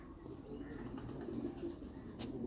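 Cross-bred pigeons kept for flying give soft, low cooing in a quiet loft setting, faint and continuous, with a brief higher chirp or rustle near the end.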